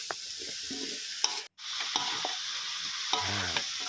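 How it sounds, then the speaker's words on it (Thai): Catfish fried crispy, tossed and stir-fried with curry paste in a hot pan, giving a steady close sizzle with scraping stirs and a brief drop to silence midway. "ผัดคลุกเคล้าไปให้ให้พริกแกงมันเคลือบ ปลาดุกนะครับ"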